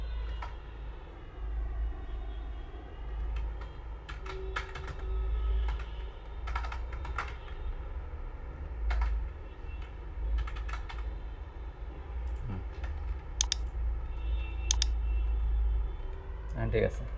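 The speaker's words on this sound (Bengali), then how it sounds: "ক্যাপস লকটা বন্ধ রেখে তারপর লিখি।" Clusters of keystrokes tap on a computer keyboard in bursts over a low steady hum, with people talking alongside the typing.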